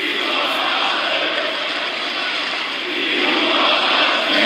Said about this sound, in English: Manchester crowd cheering for the Newcastle native Pac.